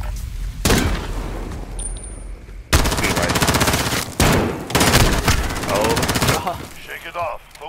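Desert Eagle pistol fired in the video game Call of Duty: Modern Warfare, loud sharp gunshots breaking up game noise in bursts, with several heavy cracks clustered in the second half of the clip.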